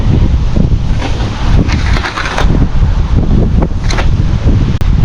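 Strong wind buffets and roars across the microphone in loud, uneven gusts on a rainy, damp day, with no voices.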